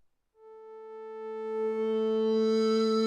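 A single sustained Arturia PolyBrute 12 synthesizer note, clean and harmonically rich, swells in from silence and grows brighter as it holds, alone and close.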